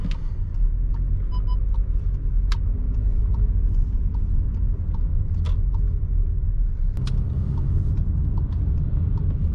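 A heavy 4x4 turbocharged car with a DSG gearbox accelerates at full throttle, its engine rumbling steadily from inside the cabin, with a noticeable change in tone near the end as a gear shift comes through.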